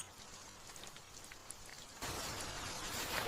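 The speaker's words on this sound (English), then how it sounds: "The rain is on the leaves." Rain falling on leaves, a soft, steady patter that stays faint at first, then swells to a louder, fuller hiss partway through.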